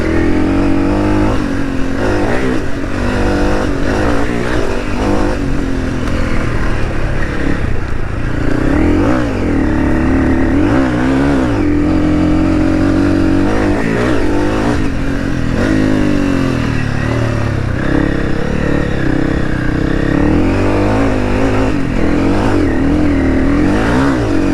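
Honda CRF300 dirt bike engine running loud and close, revving and accelerating through the gears while riding, its tone rising and falling in repeated surges with no talk.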